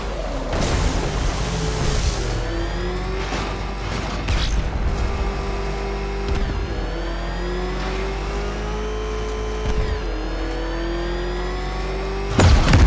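A car in the Batman Arkham Knight video game drives and revs steadily, its engine pitch climbing and falling across the run, with creaking mechanical clunks and a few heavy thumps breaking through.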